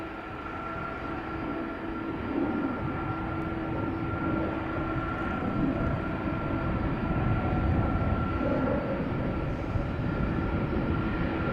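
A Delta Airlines Airbus A330-300 lines up on the runway at Amsterdam Schiphol: a steady, loud jet engine rumble with a sustained whine, continuous and unchanging for the whole stretch, with no voices.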